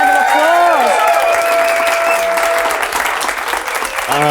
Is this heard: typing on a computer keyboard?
no